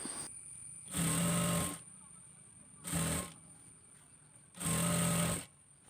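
A sewing machine stitching an umbrella palazzo runs in three loud bursts, two longer and one short, close up, with quiet pauses between the runs.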